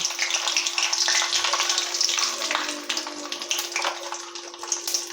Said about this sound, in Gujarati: તેલ આપણું ગરમ થાય એટલે એમાં લઈશું આપણે એક ચમચી રાય અને બે ચમચી જેટલા લઈશું સફેદ તલ